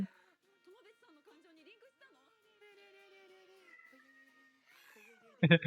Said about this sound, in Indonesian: Kucing marah aja.